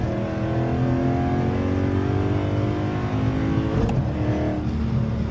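Dodge Challenger Scat Pack in track mode accelerating hard, its loud, close engine note climbing steadily in pitch as it pulls, with a brief rough burst near the end and no talking.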